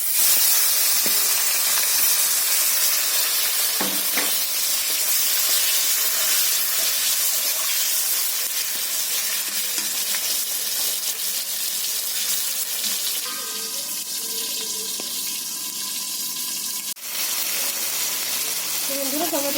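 Fish frying in oil in a pan for a large fish recipe: a continuous loud, dense hissing sizzle that holds steady throughout, with a brief knock near the end.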